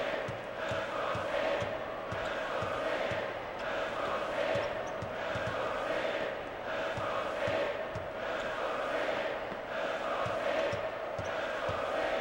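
Video-game arena crowd noise from NCAA March Madness 2005, a steady loud roar of cheering fans with rhythmic basketball bounces and squeaks underneath throughout.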